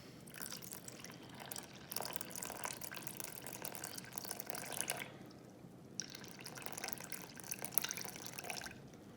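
Water is poured into a bowl resting on a kitchen scale while feeding a sourdough starter, giving a close, continuous splashing trickle with a short pause midway before the pour resumes.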